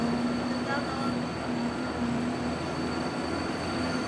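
A tour tram rolls along on the Universal Studios Hollywood studio tour with a constant rumbling drone and a steady hum running through it, a continuous mechanical sound without any break.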